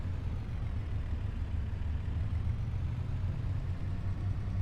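A video game truck engine running at a steady low rumble inside a huge cab, reverberant and continuous, with no talking over it.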